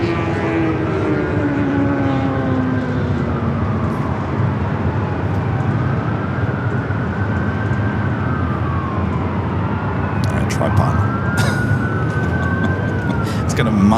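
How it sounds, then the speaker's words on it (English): A Delta Airbus A319 takes off at Los Angeles airport, its loud sustained engine roar with shifting whine tones rising and falling across the whole stretch, under radio chatter and talk. "Another Delta A319 and next takeoff"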